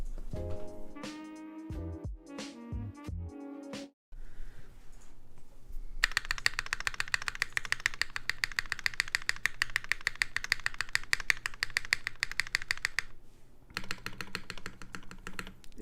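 Rapid, close keystrokes on a Merisi Sessantacinque 65% mechanical keyboard, a dense, steady clatter of full, deep clacks following a brief tonal passage and pause at the start.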